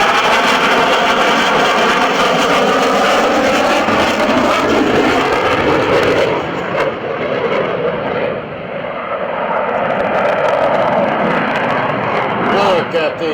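An F/A-18C Hornet jet in Microsoft Flight Simulator X roars loudly and continuously through a pitch-rate manoeuvre, its engine noise swelling and easing, with a voice talking over it.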